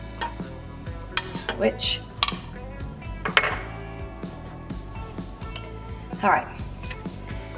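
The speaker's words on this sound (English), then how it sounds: "All right, so now I'm just gonna put it in my loaf pan." Vegan meatloaf mixture being pressed and spooned into a loaf pan, soft squishy scraping and several clinks of utensil against the pan under a little talk, close up with a faint music bed.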